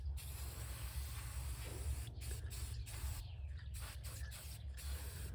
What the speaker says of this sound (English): then everything gets a good heavy dose of clear coat, just to seal all the nooks and crannies